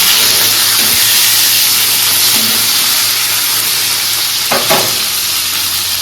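Tomato frying in a pan gives a loud, constant sizzle close by, with a few scrapes of stirring near the end and no talking.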